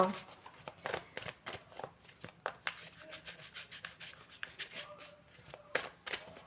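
Tarot cards are cut and shuffled close up in a sequence of quick papery riffles and rubs, with soft pauses in between and no voice over the handling.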